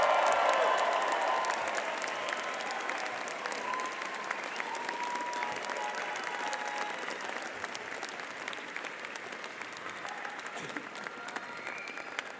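A large audience at a university engineering commencement ceremony claps and cheers for families and friends, a dense roar of applause that peaks at the start and stays sustained, slowly easing over the whole stretch.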